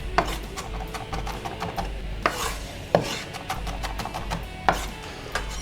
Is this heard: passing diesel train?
no